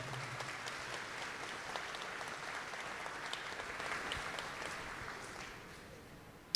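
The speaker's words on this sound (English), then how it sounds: "Let's give these Parks and Rec employees a round of applause" Outdoor crowd applause for Parks and Rec employees at an aquatic centre ribbon cutting, sustained scattered clapping that is fairly faint and distant, tapering off toward the end with a sharp knock at the finish.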